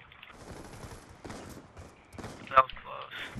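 Gunfire during a video game match, with scattered short bursts of shots at moderate volume under a player's talking, and one louder sharp report near the end.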